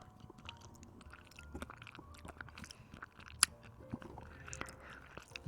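Close-miked ASMR chewing imitating munching pebbles gives irregular crunches, bites and squishy mouth sounds, quiet overall with one sharp click partway through.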